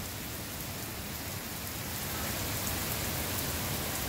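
Heavy rain pours steadily, a dense, loud hiss of drops with no pauses throughout.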